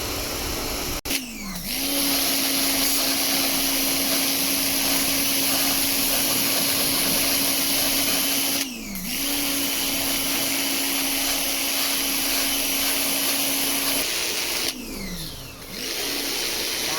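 A pressure washer motor drones loudly and steadily, its pitch dipping briefly each time the trigger is released, with hissing spray throughout as it cleans a Chevrolet Sonic's radiator.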